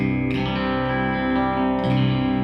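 Electric guitar through an ENGL Savage 120-watt tube amp head's clean channel in pentode mode, a full, fairly clean tone, sustained chords ringing with light modulation and echo, no voices.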